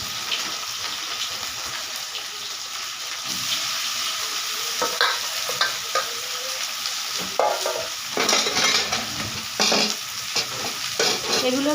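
Onions frying with whole garam masala and bay leaves for a mutton curry, stirred steadily in a pan, with broadband sizzle and scraping strokes that grow busier toward the end; no talking.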